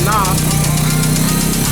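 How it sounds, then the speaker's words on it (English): Honda Civic rescued from a junkyard idles steadily, a continuous close engine drone with a slight knocking pulse, and someone talks over it. "There's how it's running. It's idling up."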